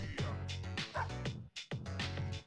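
Angry dogs bark and yip in the Persona 3 Portable video game, several quick close barks and whimpers in a short burst with brief gaps.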